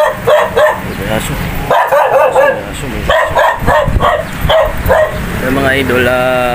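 A dog barks and yips repeatedly in quick bursts nearby, fairly loud, ending in a drawn-out whining note.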